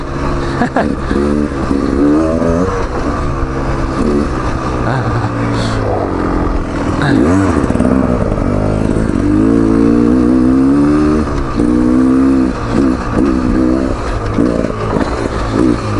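Beta Xtrainer 300 two-stroke motorcycle ridden on a trail, its engine droning and revving steadily and loudly throughout, with a few surges in pitch and no clear talk over it.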